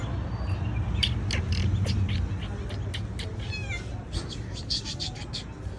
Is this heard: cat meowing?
yes